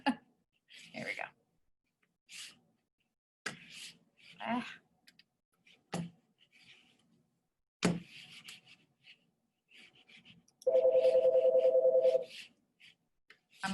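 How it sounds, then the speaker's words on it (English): An office telephone rings once, a loud sustained electronic tone of over a second near the end, following scattered clicks, bumps and brief talking in a quiet room. "The phone is ringing and the mouse is not working."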